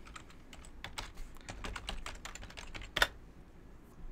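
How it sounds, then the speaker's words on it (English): Typing on a computer keyboard: a close, rapid, uneven run of light key clicks, with a louder thump near the end, then the typing fades to quiet. "I'll type my email in it in chat."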